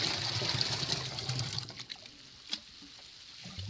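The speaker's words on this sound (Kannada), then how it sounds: "10 ಮಗ್ಗು ನೀರಿಗೆ 1 ಮಗ್ಗು ಲಿಕ್ವಿಡನ್ನು ಹಾಕ್ಕೊಳ್ತೀನಿ ನಾನು." Liquid fertilizer is poured by mug into water, a steady close splashing pour that thins to a trickle and occasional drips, with no talk.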